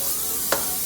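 Bell pepper and red onion frying with meat for homemade chili in a hot pan, a soft continuous sizzle with one brief scrape or stir near the middle.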